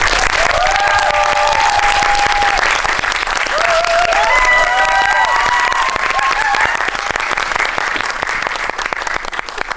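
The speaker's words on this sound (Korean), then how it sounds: "큰 박수로 맞이해 주십시오." An audience at a Korean film screening and Q&A for 'Neighbor' (이웃사촌) gives sustained, loud applause as director Lee Hwan-kyung and actor Jung Woo are welcomed, with dense clapping and a few whistles and cheers across the whole stretch.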